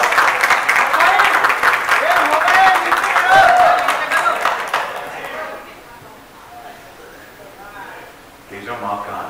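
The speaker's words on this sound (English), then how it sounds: "Give me a wonderful round of applause." Audience applause at a film trailer launch event, dense clapping and crowd noise mixed with an announcer's voice, fading out after about five seconds before a brief return of voices.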